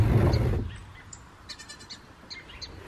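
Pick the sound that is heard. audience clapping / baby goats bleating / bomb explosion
baby goats bleating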